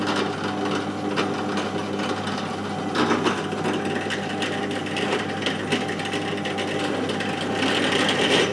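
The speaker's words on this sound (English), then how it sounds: "And some drilling." A drill bores holes in metal steering parts for a Super 7 Locost kit car build, a continuous whining motor with rhythmic grinding bursts and clicks, close and fairly loud.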